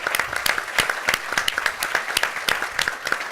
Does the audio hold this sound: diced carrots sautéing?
no